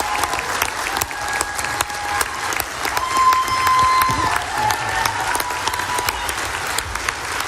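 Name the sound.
audience applause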